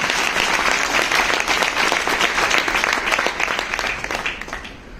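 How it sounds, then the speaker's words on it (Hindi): A church congregation at a Sunday service in Pipalkua, Gujarat, claps loudly and steadily. The dense, sustained applause fills the space for several seconds before tapering off near the end. "जोर से ताली बजाइए अपने।"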